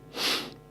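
A single short sneeze, a sharp close burst of breath that fades within a fraction of a second.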